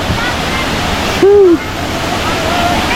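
A waterfall at a beach resort near Metro Manila pours with a steady, full rush of broadband noise that fills the whole stretch, briefly overlaid by a short voiced sound near the middle.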